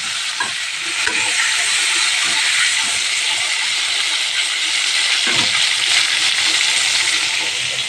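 Washed eggplant and tomato pieces hit a hot pan seasoned with black cumin seeds, setting off a steady, close hiss and sizzle that runs throughout with a few faint clinks and stirring knocks.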